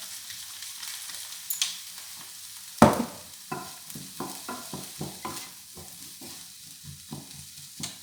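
Vegetables fry in a pan for an arrabbiata sauce as black pepper goes in, with a steady soft sizzle under a run of irregular stirring scrapes and taps.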